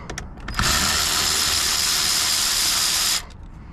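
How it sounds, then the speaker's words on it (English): An electric ratchet wrench spins a nut loose on a 1998 Cobra, a few short clicks and then one sustained high-pitched whirring burst of about two and a half seconds, loud and close, stopping abruptly. "I'm gonna go ahead and get my electric ratchet wrench"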